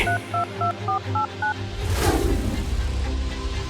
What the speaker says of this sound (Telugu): వెంటనే తన ఫోన్లో ఏదో నంబర్ డైల్ చేసి